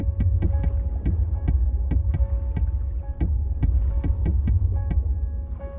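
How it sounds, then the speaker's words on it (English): Rhythmic metallic tapping above a submarine hatch underwater in GTA V, irregular sharp knocks repeating over a steady low engine-like hum, close and fairly loud with no talk. "a tapping noise which can be heard if you swim just above the hatch"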